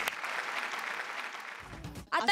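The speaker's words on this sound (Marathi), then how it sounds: "आमिरसाठी मनापासून टाळ्या." A comedy show audience in a studio claps for a performer, a steady moderate round of applause that fades toward the end before a voice cuts in.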